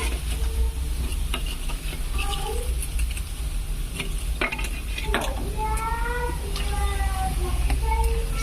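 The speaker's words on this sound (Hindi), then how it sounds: "उबलते हुए तेल में पिंगल डाले तो किस तरह पिंगल फूल रहे हैं ये" Pingal fritters bubble and sizzle steadily in boiling oil in a cooking pot, with a continuous close frying hiss, occasional stirring clinks, and people talking in the background.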